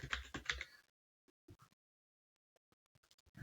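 Computer keyboard typing, with scattered light key clicks in short irregular bursts, faint and close, after a brief louder burst at the start.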